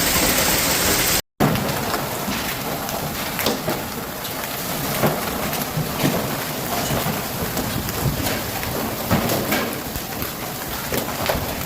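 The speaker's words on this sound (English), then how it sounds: "Large hailstones fell from the sky in both areas, quickly blanketing the ground in white." Heavy rain and hail pour down during a severe storm in Tarragona, Spain, a loud continuous hiss with scattered sharp impacts throughout and a brief dropout near the start, no voices.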